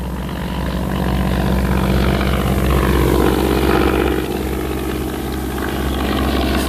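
An early World War I propeller aircraft engine drones steadily and loudly, a constant buzzing roar that swells slightly and then eases without a break.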